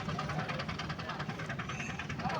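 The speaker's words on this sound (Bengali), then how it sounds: "আমাদের এই লোকাল ট্রেনটা কিন্তু চলে যাচ্ছে" Rumbling engine and rhythmic rattling of a local train pulling away from Rangpur railway station, steady and fairly loud, with some voices faintly mixed in.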